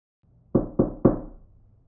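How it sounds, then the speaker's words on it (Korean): Three firm knocks sound on a car trunk as a horror story sound effect. The knocks are evenly spaced and hollow, each one decaying quickly, and they play alone against near silence. "트렁크 쪽에서 노크 소리가 들리더군요"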